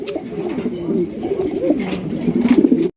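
A male blue pigeon coos in low, repeating rolling phrases, close and continuous for about three seconds.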